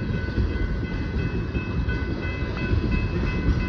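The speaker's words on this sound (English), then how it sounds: "I was not expecting this train to come by" A freight train rolls past a railroad crossing, its loud, steady rumble and rattle filling the whole stretch without a break, with a faint horn-like tone held above it.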